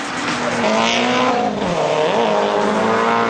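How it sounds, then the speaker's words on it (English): A drift car at the Desoto NOPI qualifier kicks sideways to warm its tires, its engine droning loud and close with a rising, wavering pitch over a steady rush of tire noise. "Kicks it sideways, warms the tires up just a little bit."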